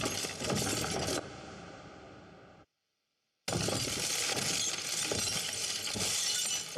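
Gate towers break apart in a fantasy battle film effect, a dense roar of crashing, shattering debris that cuts to silence, then erupts again in a sustained loud rumble of crumbling material.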